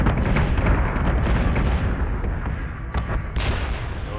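Ship batteries pounding away in the Battlestar Galactica Deadlock space combat game, a loud, continuous barrage of booming cannon fire and blasts, dense at first and thinning slightly toward the end, with a few sharper bursts.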